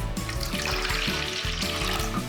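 White vinegar pours steadily into a soy sauce marinade in a bowl, a close continuous splashing trickle with a faint bubbling rhythm.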